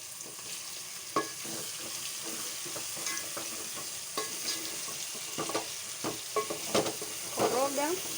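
Beef pilau with tomato paste sizzles softly in a pot while a spoon stirs through it, producing scattered scrapes and clinks over a low, steady frying hiss.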